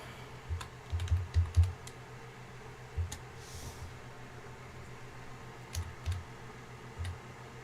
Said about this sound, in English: Just writing in Discord